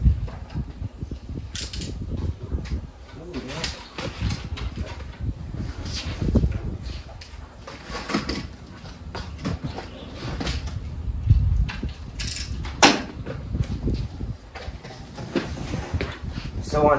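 A Harbor Freight Titanium Easy Flux 125A welder is unboxed up close, with irregular cardboard rustling, scraping and hollow knocks and thumps as packaging is handled.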